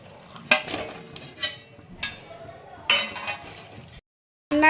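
Pointed gourds go into a pan of cooking spices with a few sharp clinks and scrapes of utensils against the pan, spaced out over several seconds over a faint sizzle.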